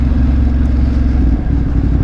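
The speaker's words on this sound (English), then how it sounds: "Exhaust like this, you definitely let the lawman know you're coming." BMW F900R motorcycle with a loud aftermarket-sounding exhaust, a heavy, steady low rumble right up close, running continuously with no voices.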